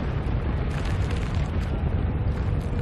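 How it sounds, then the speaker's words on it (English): Long-range artillery explosions in Final Fantasy XIV, a continuous loud rumbling roar of distant blasts and debris that stays dense and steady throughout, with no voices. "Long-range artillery."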